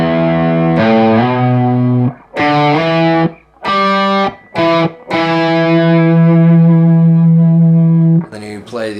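Distorted electric guitar picking out a one-finger riff, single sustained notes in short phrases with brief gaps, loud and close with a touch of effects processing.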